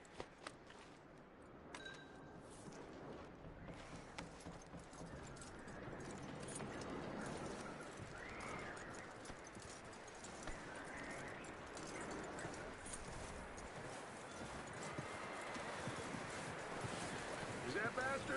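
Horse hooves clip-clop at a steady walking rhythm in Red Dead Redemption 2, soft and fairly distant under a constant wash of wind and outdoor ambience, with no talking.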